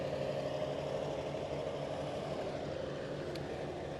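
A 1953 Case SC tractor engine runs at a parade, giving a steady, low, quiet drone with no change in pace throughout.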